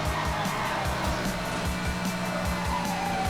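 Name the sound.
race car overtaking with nitrous in Formula Fog video game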